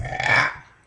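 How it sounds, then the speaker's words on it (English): A big, loud burp from a boy, a single drawn-out belch lasting most of a second, close to the mic, with a brief sound cutting in right at the end. "James, did you record that big burp I just did?"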